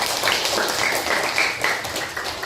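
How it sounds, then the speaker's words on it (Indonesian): A classroom of students claps together for themselves, a short burst of steady, fairly loud applause with bright, dense hand claps. "Beri tepuk tangan untuk kalian."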